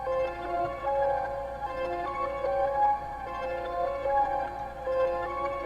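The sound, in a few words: reversed piano melody with Vision Portal vintage preset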